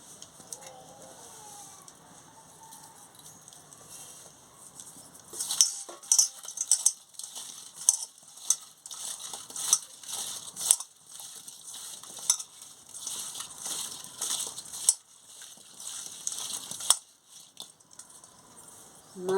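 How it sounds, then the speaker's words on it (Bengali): Raw potato pieces being mixed by hand with salt and turmeric in a bowl, giving soft irregular rustling and squishing with occasional light clinks, fairly close, after a quiet start. "এবারে আলুতে নুন আর হলুদটা মাখিয়ে নিচ্ছি।"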